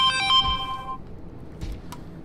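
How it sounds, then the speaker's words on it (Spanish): A mobile phone ringtone plays during a Bloodborne game session, a short bright melodic ring for about a second, then faint clicks and soft noise, with no talking. "¿Por qué me suena el móvil ahora?"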